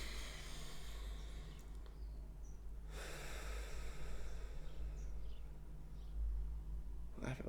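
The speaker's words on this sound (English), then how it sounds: "Let's take a deep breath" A person draws a slow, deep breath close to the microphone, a soft airy rush that rises and fades over a quiet room with a low steady hum, ending with a short, sharper exhale.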